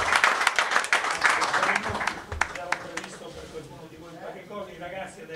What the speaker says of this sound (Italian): un applauso, penso